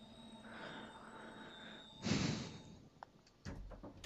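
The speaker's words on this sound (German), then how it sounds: "öffnen wir hier die Tür." A regional train's doors open in the Train Sim World simulator, a faint pneumatic hiss and mechanical burst swelling midway, followed by a couple of soft clunks and a low rumble in a quiet cab.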